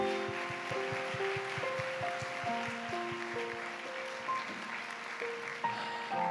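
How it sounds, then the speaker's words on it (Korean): A church congregation claps steadily during a Sunday morning service while sustained keyboard chords play underneath. "우리의 찬양을 받으실 그 사랑의 하나님께 우리 감사의 박수 올려드리겠습니다."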